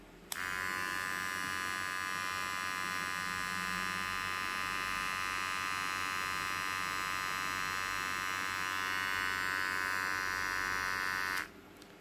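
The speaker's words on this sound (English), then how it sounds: "It's not a fast trimmer." A VGR V952 electric hair trimmer runs steadily near the microphone, putting out a continuous buzzing hum for about eleven seconds before it switches off.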